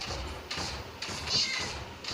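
A cat meows in a blocky Minecraft-like video game, with a few short meows repeating about every half second over a steady background hum.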